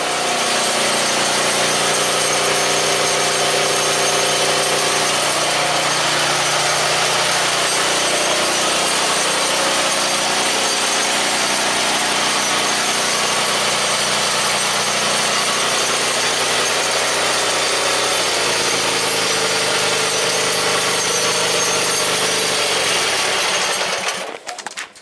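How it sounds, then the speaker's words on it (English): A tractor engine runs steadily and loudly for a long stretch, a constant droning roar with tonal hum, then cuts off abruptly at the very end, with no talking. "You can hear the tractor running right now."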